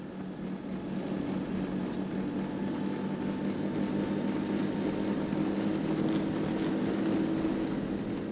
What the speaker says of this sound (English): In the winter, the snowmobile is the most important means of transportation.